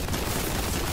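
Dense, continuous video game gunfire from a vehicle-mounted weapon fills the whole second, a loud unbroken roar of rapid shots with no speech.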